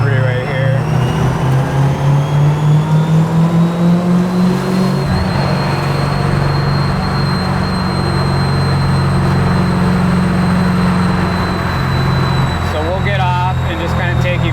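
A 1969 Chevelle restomod with a 1,000-horsepower supercharged 427 LS cruising on the freeway: a loud, steady deep engine drone with a supercharger whine above it, and a shift in tone partway through. Someone talks over it.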